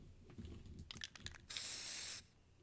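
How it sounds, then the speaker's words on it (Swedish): In the CS:GO video game, a few soft clicks and taps are followed by a single loud, steady hiss of a graffiti spray lasting under a second, then quiet. "Den håller på med att spraya."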